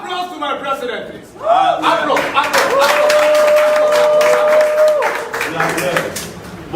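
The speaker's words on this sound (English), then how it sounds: "Applause to my president" A rally crowd in Eti Osa with Omoyele Sowore's TakeItBack team claps and cheers in a loud, sustained burst, with shouting voices and a raised singing-like call carried over the noise.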